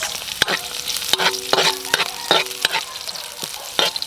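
Garlic fried golden brown and then onions sautéing in a pan, a loud close sizzle broken by repeated scraping stirs of a spatula, roughly every half second.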